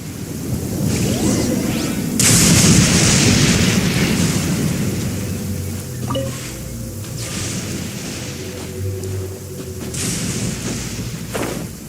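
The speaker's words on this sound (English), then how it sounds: "Hey, it's just a little lightning." Thunder rumbling through a lightning storm in the video game Genshin Impact, a loud, sustained low roar with sharp crashes near the start and again later, steady over the whole stretch with no talk.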